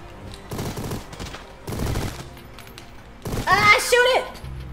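Gunfire in the video game Mighty Goose, with three bursts of rapid shooting separated by short pauses and a louder, busier burst near the end, set against quieter game sound.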